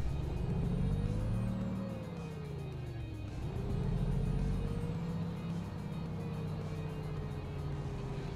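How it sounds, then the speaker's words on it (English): Truck engine in a truck simulator game held at high over-revving rpm, a steady loud drone whose pitch climbs, dips around the middle, then rises again and holds, with no talking. "We'll just over rev the truck for a minute"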